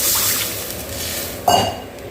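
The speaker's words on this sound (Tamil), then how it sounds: "இப்போ இது வதங்கிட்டு நம்ம கரைச்சி வச்ச புளி தண்ணியும் சேர்த்துக்கலாம்." Tamarind water is poured into a frying pan of sautéing vegetables and spices for bitter gourd kuzhambu, a low sizzling bed broken by one brief splashing gush near the middle that fades back into the sizzle.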